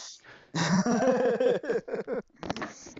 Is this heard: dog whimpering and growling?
yes